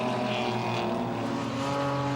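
BMW E30 race cars at Manfield circuit roar down the back straight in a sustained, steady engine drone with strong harmonic tones, loud and continuous throughout without talk.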